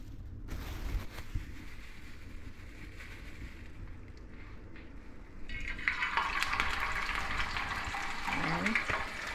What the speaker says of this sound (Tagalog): Basta gusto ko lang kasi yung ganyan yung iprito sa mantika